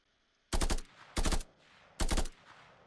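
Three sharp, loud bursts of automatic weapon fire from a self-made video game, each roughly a quarter second long and separated by short pauses, with no other sound between them.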